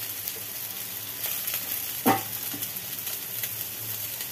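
Tomato dropped into a pan of frying potato and vegetable stems gives a steady close sizzle, broken at one point by a brief louder splat and burst of crackle before the frying settles again.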